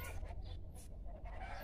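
Chickens cluck excitedly and continuously in a farmyard coop. Overlapping calls are close and fairly loud, with no talking.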